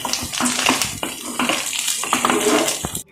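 Dried dates and peanuts frying in a pan, giving a busy, close sizzle broken by repeated clinks and scraping stirs, with no voices, then a sudden cut to silence at the end.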